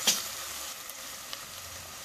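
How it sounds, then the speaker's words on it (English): Onions frying in a pan over medium heat, a steady soft sizzle running throughout with a brief louder crackle at the start, close and alone with no talking. "Cook the onions on medium heat for a couple of minutes."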